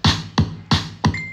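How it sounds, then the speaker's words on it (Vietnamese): Kick drum and clap alternating in a steady electronic Vinahouse beat built on a phone, four evenly spaced punchy hits, loud and dry with no voice over them. "cách một kích, lại một clap."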